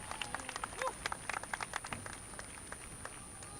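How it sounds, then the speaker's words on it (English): At a high school graduation ceremony, an audience gives a thin, scattered round of applause for student speakers, with individual claps audible, moderately distant, tapering off over a few seconds. "Please give them a round of applause as they make their way to the stage."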